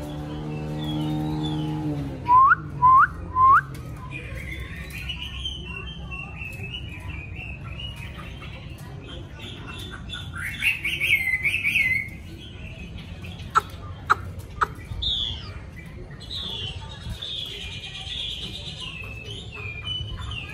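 Caged songbirds in a Vietnamese home setting during moulting season, chirping and singing in short bright phrases and trills, moderately near, over a steady background hiss.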